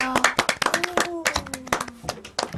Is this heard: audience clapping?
yes